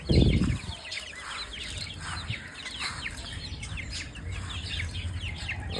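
Chickens cluck and chirp in a busy cluster nearby, a low thump at the start, then steady overlapping clucks throughout.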